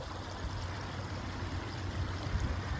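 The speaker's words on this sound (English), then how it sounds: "Waterfall in our front yard." A pondless waterfall in a front yard gives a steady, continuous rush of falling water at moderate level, with no voices.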